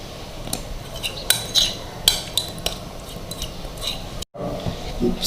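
Melted butter and dark chocolate being mixed into brownie batter, heard as irregular sharp clinks and taps of a utensil against the bowl, close by and moderately loud, with a brief silent gap near the end.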